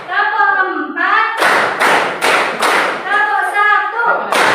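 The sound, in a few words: rhythmic clapping pattern by class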